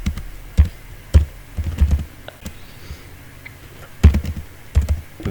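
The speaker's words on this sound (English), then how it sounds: "So for that purpose I must type" Typing on a computer keyboard, with soft, irregular key clicks and clusters of taps at close range, fairly quiet, with no speech.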